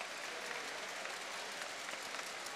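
Crowd applause fills an arena at a women's judo competition after a medal-winning hold, steady and dense broadband clapping throughout, moderately distant and without speech.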